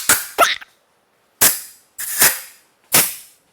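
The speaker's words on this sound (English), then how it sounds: "It's got a bunch of debris. I'm going to go ahead and blow that out now." Four sharp bursts of compressed air blasting debris out of a Ford 4.6L modular 2-valve V8 engine during teardown, each a loud hiss that cuts off abruptly, with short pauses between them.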